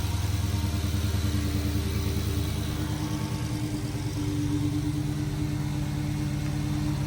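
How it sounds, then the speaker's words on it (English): Dodge Hellcat with an aftermarket intake idling nearby, a low lumpy rumble with a rapid steady pulse and a faint whine layered over it, continuous and unaccompanied by talk. "Big Cat with the leg maker intake."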